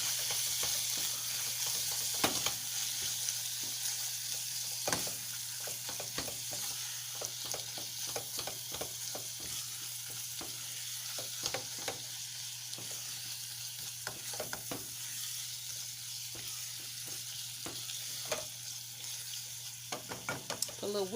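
Onion seasoning stirred in a frying pan: a quiet, continuous sizzle under a steady run of light scraping and tapping strokes, close by and fairly soft.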